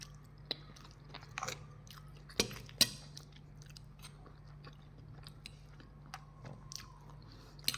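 Soft, close-up chewing and biting into cherry tomatoes, with scattered wet crunches and squishes against a quiet indoor background and no talking.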